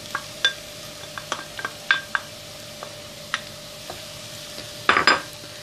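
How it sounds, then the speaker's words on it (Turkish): Grated unpeeled zucchini goes into a pan with sautéing potatoes and vegetables for a soup, bringing scattered utensil scrapes and clinks and a brief louder clatter near the end over a low sizzle. "Son olarak kabaklarımı da ilave ediyorum."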